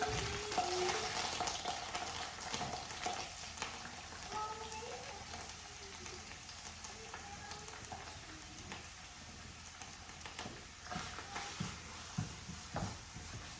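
Mushroom stems cook in a hot pan with a soft, continuous sizzle and scattered crackles and stirring clicks, fairly quiet and close, with no one talking.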